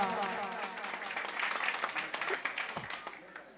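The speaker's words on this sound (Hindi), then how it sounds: "एक बार जोरदार तालियों से स्वागत हो जाए" Loud applause from a crowd at a live bhajan evening in a village near Itarsi, India, dense clapping swelling and continuing throughout with a bit of voice mixed in.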